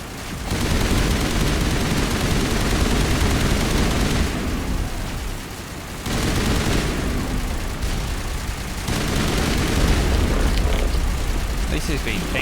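Loud, dense gunfire and heavy booms from the video game Mass Effect pound almost without pause, with brief lulls, while voices talk over the din.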